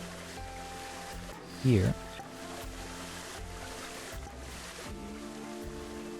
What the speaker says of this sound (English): Rapids still, yep. Rapids. Not foam, but the splashing.